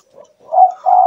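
Spotted dove (tekukur) giving a close, clear coo: a soft short note followed by two longer sustained hooting tones, alone with no other sounds.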